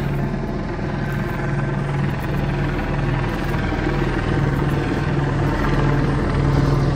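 A police helicopter circles overhead after a car chase in Hemet, its steady rotor drone loud and continuous throughout with a low pulsing throb and no talking.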